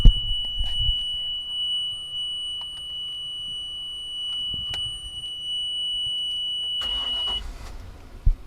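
A boat engine is being started: faint cranking and scattered clicks, with a steady electronic beep tone, then a louder surge near the end as the engine catches.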